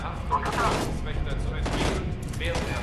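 Rapid gunfire in the shooter game Homefront: The Revolution, bursts of shots with booming low rumble, continuous and fairly loud, with someone talking over it.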